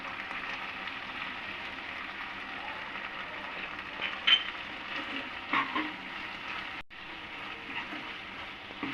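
Spice masala sizzling and frying in a pan on a stove, a steady close crackle with occasional scrapes and stirs from a spoon, and a brief clack near the end, with no talking.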